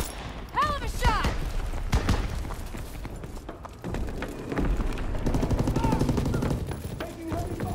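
Heavy gunfire crackles through a video game firefight, loud, dense bursts of shots running nearly continuously over chaotic game noise, with voices calling out beneath.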